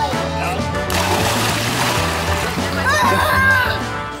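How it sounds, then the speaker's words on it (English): Water splashed by a child, with continuous splashing and sloshing close to the microphone and a person talking over it. "you splashed me again."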